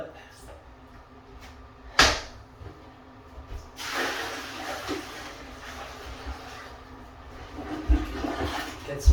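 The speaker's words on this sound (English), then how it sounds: "I'm going to dump this water" Water from a bucket pours into a toilet in a bathroom, a sudden splash followed by a rushing, gurgling wash; a voice talks over it, with clunks and knocks around.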